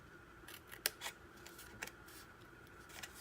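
Scissors cutting paper pockets at a slight angle for a DIY notepad holder, making a few quiet, close snips and crisp paper rustles over a soft background hiss.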